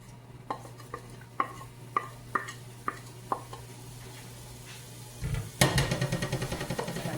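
Ginger, garlic and onion cook in a pan: a series of evenly spaced spatula taps and scrapes, then a sudden loud burst of sizzling as the pan heats up.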